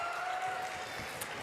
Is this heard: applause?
yes